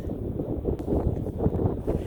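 Low, rumbling gusts buffet the microphone outdoors on a farm in Clinton, Indiana, a continuous roar of wind with no talking.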